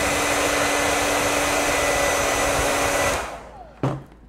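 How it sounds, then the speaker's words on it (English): A hair dryer blows a steady, loud, even roar as it heats a Dbrand marble skin on an iPad Air 2, then cuts off near the end with a brief click as it stops. "I don't recommend holding your hand here because hair dryers do get hot"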